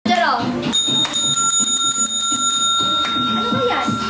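A bell rings repeatedly during a live online selling session, a bright sustained ringing over several seconds, close and loud, with people talking throughout.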